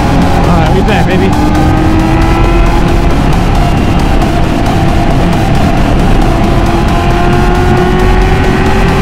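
A Nissan 370Z races along a highway, its engine droning loud and steady throughout with rising tonal pitch sweeps as it accelerates, and faint tire or wind noise underneath.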